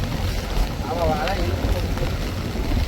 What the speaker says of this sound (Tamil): சரியான காத்துண்ணே